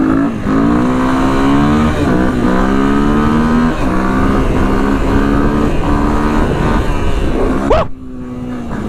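Honda XR200 dirt bike engine revving hard and loud up close, its pitch climbing in repeated surges, then dropping abruptly as the throttle is released near the end.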